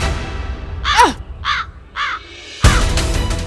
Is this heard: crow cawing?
yes